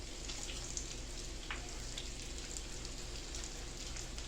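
Three perch fish are dropped into hot oil in a pan on a stove. The result is a steady, even sizzle of frying that holds at a constant level throughout, with faint crackles on top and no talking.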